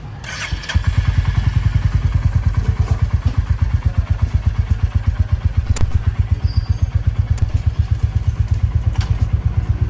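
Royal Enfield Hunter 350 motorcycle single-cylinder engine starts up and settles into a loud, steady thumping idle close by, pulsing evenly for several seconds, in Thailand.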